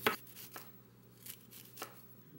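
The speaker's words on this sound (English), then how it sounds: "Try to chop it as fine as you can." A knife chops raw broccoli on a board into fine pieces, producing a few soft, crisp cuts spaced about half a second apart, close and quiet, with no talking.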